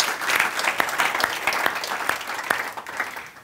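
Studio audience at a tonight-style show breaking into brief, dense applause, a steady patter of many hands clapping for a few seconds.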